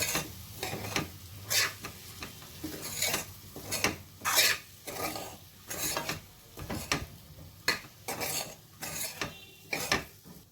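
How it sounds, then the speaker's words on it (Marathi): Repeated scraping and clattering of a utensil sautéing thick ground spice paste in a pan, in short irregular strokes, close up with no talk. "हे केलेलं वाटण सुद्धा ह्याच्याबरोबर परतूया आपण"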